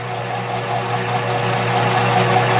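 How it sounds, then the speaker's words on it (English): A metal lathe turns a wooden workpiece, giving a steady, loud motor drone with a constant low hum and no voices. "running a metal lathe with wood on it"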